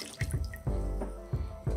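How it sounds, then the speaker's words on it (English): Cognac trickles into a cocktail mixing glass for a Vieux Carré, heard as close, splashy bursts of liquid in short repeated pours. "we're gonna pour 1 ounce of our cognac"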